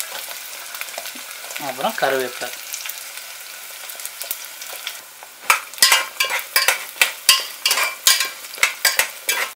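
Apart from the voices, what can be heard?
shallots and garlic frying in pan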